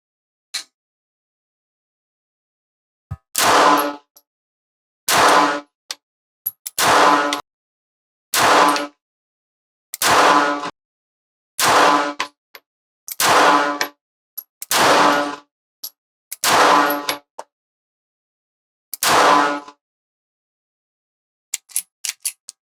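Ruger LCP Max pistol firing ten shots, sharp loud cracks spaced at a steady interval of roughly one and a half seconds, close up, with a faint click before and metallic clinks after.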